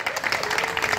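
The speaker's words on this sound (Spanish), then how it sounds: "a los dos vamos a darles un fuerte aplauso" Brief burst of guests clapping at a baby shower, a busy patter of many hands at moderate loudness with a faint voice or crowd murmur mixed in.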